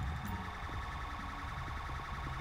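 Ambulance siren in the video game GTA5, a steady wailing tone heard faintly and continuously, somewhat distant, with no talking.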